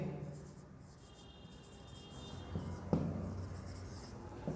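Writing on a classroom board: soft scratchy strokes of chalk or marker, faint and close, over a low room hum, with a brief sharper tap near the middle.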